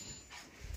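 A young pet dog gives a faint, soft whimper that is brief and close. It sits against quiet room noise with a slight rustle near the end, and there is no talking.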